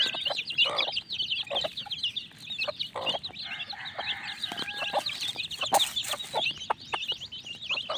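Chicks inside a coop cheep busily at feeding time among clucking fowl, a dense chorus of short, high peeps close by with occasional louder calls.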